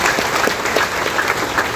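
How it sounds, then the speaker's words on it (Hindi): Dense, steady applause from a large audience at a spiritual talk, clapping loudly and continuously for the whole moment with no break. "अभी तो ताली बजाओ खुशी से"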